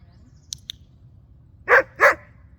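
Bonnie the dog gives two loud, close barks in quick succession during fixation-release training, preceded by two faint clicker clicks.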